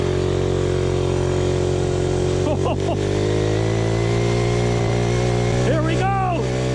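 A 58cc SYX mini dirt bike engine runs steadily throughout, with a constant drone and some pitch swells as it is ridden. A voice cuts in briefly over the engine noise.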